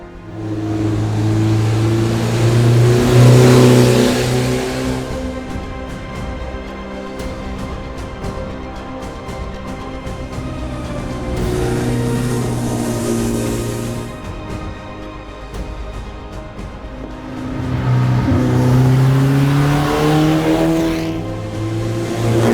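A Porsche 356 Carrera Speedster Zagato's small 1500cc engine revs hard in repeated surges, rising and falling in pitch, loud and close with tires occasionally squealing.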